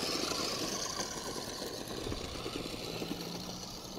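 A NewBright Bigfoot RC truck's electric motor revs on the throttle outdoors, a faint whirring buried in steady wind-like rush for about four seconds.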